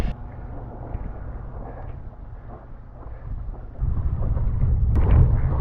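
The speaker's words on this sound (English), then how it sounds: "the wind is blowing into the harbour" Wind buffets a microphone while windsurfing out of a harbour, a low rumbling roar that grows louder and heavier toward the end, with faint water sounds beneath.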